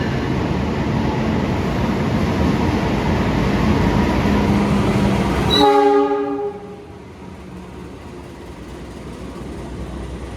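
A loud Wijaya Kusuma passenger train rumbles past with a sustained horn blast near the middle, then the noise drops abruptly to a quieter background hum.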